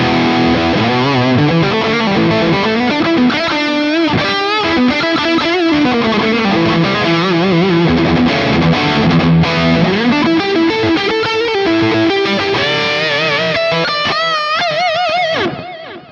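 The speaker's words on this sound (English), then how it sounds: "Let's have a listen to what this sounds like just with more gain" Heavily distorted electric guitar, an Enya Inspire Pro SD with built-in amp on high gain, plays a continuous riff with thick, saturated tone and effects, loud and up front, stopping abruptly at the end.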